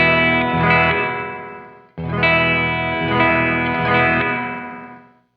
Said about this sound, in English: I'm not the biggest fan of that particular style of hall reverb.